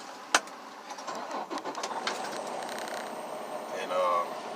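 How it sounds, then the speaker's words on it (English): A truck engine cranks and starts at a distance, a short mechanical burst settling into a low rumbling idle, faint and muffled beneath room noise. "Let me go ahead and start my vehicle."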